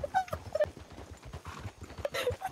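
Horses trot along in the Red Dead (RedM) video game, their hooves making quiet, uneven clip-clop knocks, with a few short, faint animal-like squeaks and whines over them.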